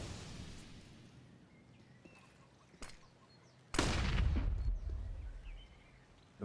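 Gunfire from a Counter-Strike match: a faint isolated shot, then a loud close burst of shots that trails off into quieter rattling.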